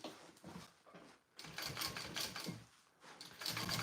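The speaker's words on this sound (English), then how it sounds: "Let me just sew up this pocket" A sewing machine stitches up a pocket on a Rick Rolltop Petite backpack, running in short quiet bursts of rapid needle chatter separated by brief pauses, close and alone.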